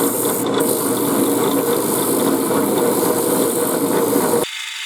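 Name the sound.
drill press drilling wood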